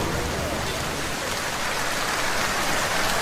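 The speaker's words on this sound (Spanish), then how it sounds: "Oye esto y es como oír llover para ellos." Steady falling rain fills the space with a dense, even hiss of countless drops. It keeps a constant, fairly loud level throughout, with no pauses or voices.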